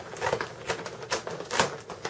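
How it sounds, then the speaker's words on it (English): Scissors cut straight across material for a homemade computer tablet case, producing a series of crisp, close snipping and rasping strokes in an uneven rhythm. "And you can run the scissors across."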